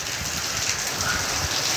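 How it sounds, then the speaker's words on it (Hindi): Heavy rain falling with wind, a steady dense hiss of downpour across the whole moment, fairly soft and even, with no voices. "ये देखिए कितनी तेज़ बारिश हो रही है।"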